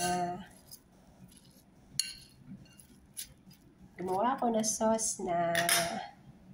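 Cabbage salad with apple being tossed with utensils in a bowl, scattered close clinks and scrapes of metal on dishware, with someone talking in between.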